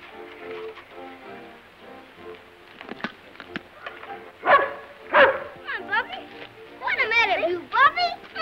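A dog barks and yips in short bursts near the end, mixed with lively voices and music from an old Our Gang comedy short.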